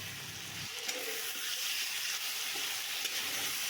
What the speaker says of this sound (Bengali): মশলাগুলো ভালোভাবে আলুর সঙ্গে নাড়িয়ে নিচ্ছি